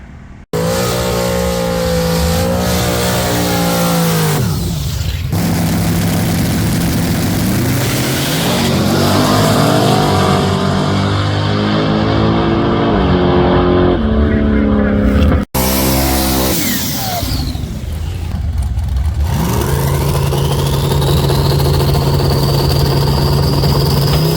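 Drag race cars on a rough street course idle and rev loudly in the lanes before a first shakedown pass, engines droning and climbing in pitch close by, with a sharp break midway and another engine rising afterward.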